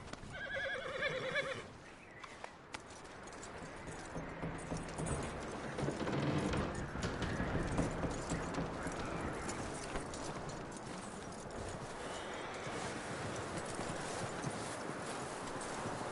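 In the video game Red Dead Redemption 2, a horse whinnies near the start, then hooves clip-clop steadily over a dense, noisy background bed of sound.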